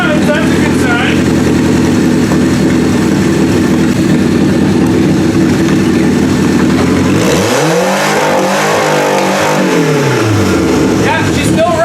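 A 1991-1996 Toyota Camry wagon engine, fitted with a stand-alone wiring harness, runs steadily up close, then revs hard in a rising and falling swell before settling back to a steady run.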